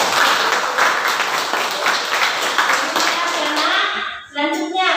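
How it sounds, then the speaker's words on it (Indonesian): Students applaud in a classroom, a dense, steady clapping that fills about four seconds before tapering off, followed by a voice speaking briefly at the end. "kita berikan tepuk tangan dulu,"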